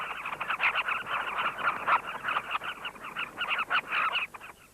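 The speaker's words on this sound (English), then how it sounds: "there's a magnificent carmine bee-eater nesting colony in a sandy cliff above the river" A dense chorus of high, chattering calls from a busy carmine bee-eater nesting colony in a sandy cliff above a river, continuous and overlapping, with no voices.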